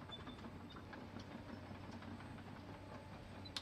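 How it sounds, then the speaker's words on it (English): A train rumbles steadily past in the Farming Simulator 19 game, on the Goldcrest Valley map: a continuous low rail rumble with faint clatter that holds for the whole stretch at moderate distance, with no talking. "This train's kind of slowing me down a little bit."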